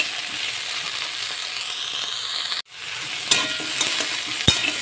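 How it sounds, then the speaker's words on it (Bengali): Potatoes, eggplant and Malabar spinach sizzle steadily as they fry in a pan. A brief pause in the hiss is followed by a few sharp clinks of a utensil stirring against the pan. "এই যে আমার সবজিগুলো ভাজা ভাজা হয়ে গেছে"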